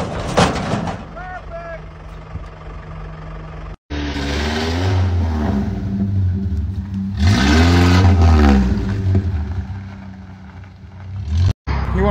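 A truck drives with its engine revving hard, rising and falling surges with a loud roaring peak midway, close and loud, abruptly cut twice, with people talking at points.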